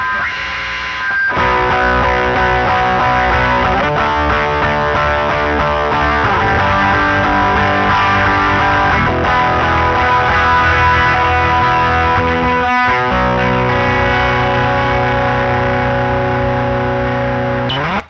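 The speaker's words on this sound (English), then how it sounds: "there's so much overdrive that all the frequencies are just getting jumbled together" A heavily overdriven electric guitar plays loud, dense chords, the distortion smearing everything into a thick, flat wall of sound, with one brief break partway through.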